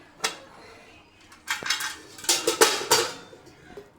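Lid lifted off a pot of prawn biryani, a quick metallic clink followed by a cluster of clattering knocks and scrapes of the cover against the rim, close up and without speech.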